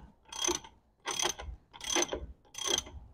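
A ratchet spins nuts off threaded studs to chase the threads during a 2-inch front and rear leveling kit install, four evenly spaced clicking bursts, close and distinct with no talk.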